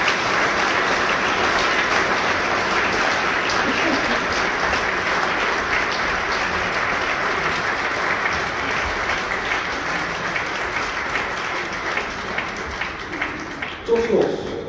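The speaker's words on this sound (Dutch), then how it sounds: "Graag een applaus voor de Bach Choir of the Netherlands." Long, full applause from a concert audience at a Christmas concert in the Grote Kerk in Apeldoorn fills the church steadily, easing slightly before a few final claps.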